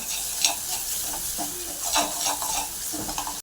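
Spices, red chilli powder and salt stirred and sautéed in a hot pan for egg Maggi, a steady sizzle broken by scraping strokes of the spoon, close and fairly quiet, with no talking.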